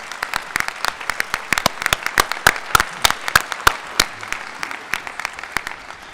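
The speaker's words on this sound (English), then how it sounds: "let's give ourselves, you, a round of applause" A university audience claps at a State of the University address, producing steady, sharp applause that runs throughout with dense individual claps, fairly close and loud.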